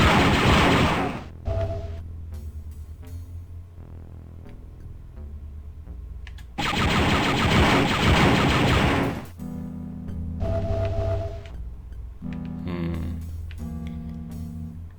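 Turrets fire in the video game Star Wars: Dark Forces, loud bursts of rapid blaster fire in two long volleys separated by quieter stretches of ticking and mechanical game sounds.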